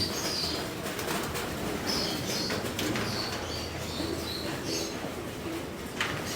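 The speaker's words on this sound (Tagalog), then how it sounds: "Ako na nga nagpakain ito mga kalapatids" Racing pigeons move about a loft after feeding, with soft wing flaps and faint coos over a steady background rustle that runs throughout.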